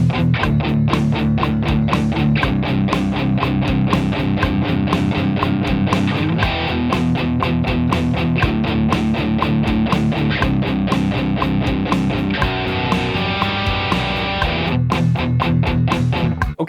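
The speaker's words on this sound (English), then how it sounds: "what you were hearing was the guitar that was being processed by the THU plugin" An electric guitar runs through the Overloud TH-U amp plugin, playing steady chugging riffs with a thick, driven tone that sounds loud and continuous throughout, with no voices.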